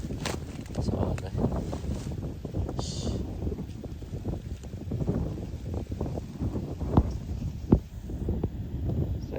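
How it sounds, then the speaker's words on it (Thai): Steady outdoor wind buffeting the microphone throughout a dirt bike tour, with rough broadband noise and occasional knocks and faint voices underneath. "ลมพัดดี"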